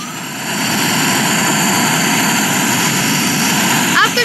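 Steady, loud jet engine roar of an airplane during takeoff, heard from the cockpit as a continuous broad rumble with brief faint voices near the end.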